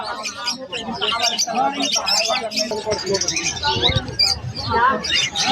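Opaline parrotlets at the Malabon pet market chirp in a dense, overlapping chatter of bright tweets close by, with voices mixed into the din.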